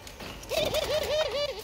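A young dove gives a clear, close warbling coo, a rolling series of about five wavering notes in a single phrase over quiet background.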